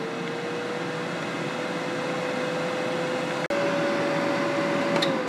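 A fryer cooking food runs with a steady, even mechanical whir and a faint constant tone, broken by a single brief click partway through.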